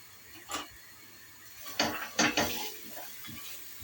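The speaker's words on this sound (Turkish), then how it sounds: "işte sarımsak. Böyle doğruyorum." Garlic chopped with a knife on a board for a restaurant-style Turkish ezogelin lentil soup, giving a few sharp, close taps and a short cluster of louder knocks, with no talking.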